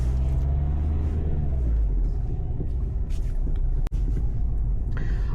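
Cars rolling past one after another on a town street at lunchtime in France, a steady low engine rumble with passing whooshes, briefly dipping near the end, with a faint voice in the background.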